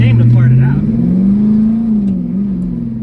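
Diesel engine of a 1980s Ford F-250 pickup running with a steady low drone that rises and shifts in pitch as gears change, loud and close, with a voice speaking over it.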